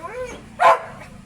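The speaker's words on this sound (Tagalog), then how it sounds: "At kasama namin itong maingay na aso." A noisy dog tied up outdoors gives one sharp, loud bark, preceded by a faint whine-like sound against light background noise.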